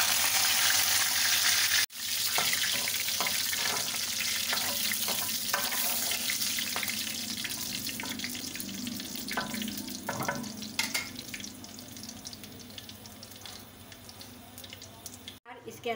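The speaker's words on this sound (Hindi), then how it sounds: "ये मैं कढ़ी का बघार तैयार कर रही हूँ। ये मैंने मोटी लाल मिर्ची गोल, ये ज़ीरा, और ये कड़ी पत्ता।" Dried red chillies, cumin seeds and curry leaves crackle and sizzle in hot oil for a kadhi tempering, a steady close frying hiss with small pops and stirring clatter, briefly interrupted near the start and at the end.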